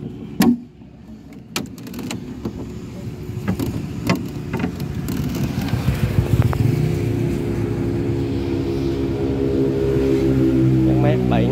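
A Yanmar F7 three-cylinder mini tractor engine idles steadily up close after some clunks and handling noises, its low running hum building and holding under a voice.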